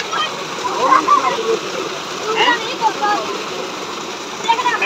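Water gushes and splashes steadily from a rural tube well, a close, continuous wash of sound with people talking over it.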